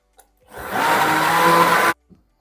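A blender roars loudly for about a second and a half while pureeing spinach and salmon trimmings, then cuts off abruptly.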